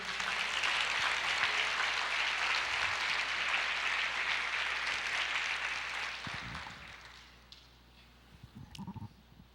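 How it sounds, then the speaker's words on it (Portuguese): A church congregation applauds during a sermon, a sustained, dense wash of clapping that thins and tapers off, leaving scattered faint sounds at the end. "Você pode aplaudir o Senhor?"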